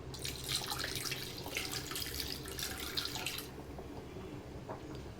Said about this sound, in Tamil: இதுக்கு தேவையான தண்ணி சேர்த்துக்கலாம்.